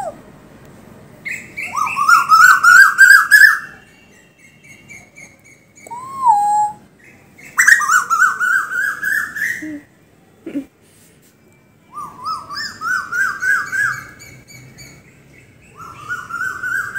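An Asian koel calls repeatedly in rising, escalating whistled phrases, loud and fairly near, with short pauses between bursts and a few other softer notes in between.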